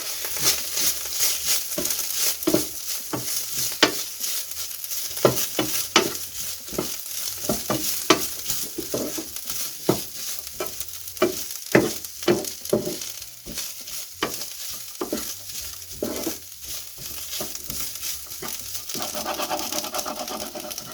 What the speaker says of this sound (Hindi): अब इसमें डालेंगे हम अदरक लहसुन पेस्ट। और मटर के साथ इसको हम भूनेंगे।